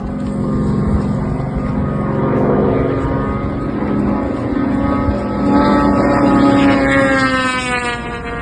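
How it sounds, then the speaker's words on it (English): A low-altitude aircraft chasing a Russian strike drone over Chornomorsk in Odesa region gives a loud, continuous propeller-engine drone, with a whining tone that rises and shifts as it passes close overhead. "a low-altitude aircraft chase of a Russian strike UAV"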